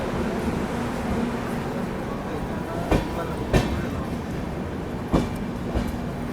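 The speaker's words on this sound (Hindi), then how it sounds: "1 घंटे 7 मिनट की देरी से अब अपनी AP एक्सप्रेस निकल रही है फाइनली" An AP Express passenger train pulls out of Nagpur station, a steady low rumble heard from onboard with a few sharp clanks and knocks from the wagons, continuous and fairly loud throughout.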